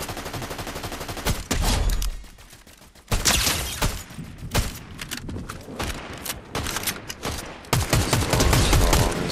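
Gunfire in the Fortnite battle royale video game: repeated loud bursts and single shots over several seconds, with a brief quieter gap before the shooting resumes.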